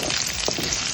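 Green chillies slit down the middle and fennel seeds sizzle steadily in hot oil in a frying pan while a tomato kurma is cooked, a loud, continuous close-up crackle.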